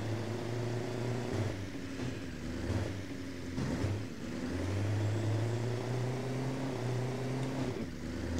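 A bus engine in Garry's Mod hums steadily as the vehicle drives a test track, its low drone rising and falling with throttle changes, loud and continuous without speech.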